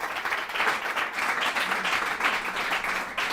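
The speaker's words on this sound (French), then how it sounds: "On a aussi monsieur Jean-Luc Mouchimpako, que je vous prie d'applaudir aussi très fort." A school competition audience claps loudly and continuously, dense applause filling the hall throughout.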